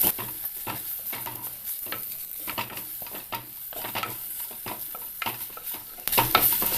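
Turmeric and chilli powder sautéing in a pan for a prawn curry with drumsticks, heard as a steady close sizzle broken by repeated scraping stirs, with a brighter burst of frying near the end.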